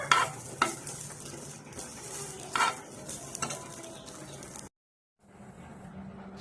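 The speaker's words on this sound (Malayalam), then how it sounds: "നമുക്ക് ഈ നാളികേരം നന്നായിട്ട്" Grated coconut roasting in a pan for sambar, stirred with a spatula: soft sizzling under repeated scraping strokes and a few sharp clinks, close up, then a brief total silence before the quiet sizzle resumes.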